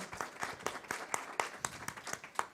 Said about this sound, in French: Je vous propose d'applaudir notre expert, notre intervenant